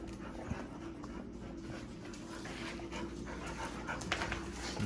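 A dog named Dixie pants steadily and fairly close, quick rhythmic breaths with a faint whimper, under low background noise outdoors.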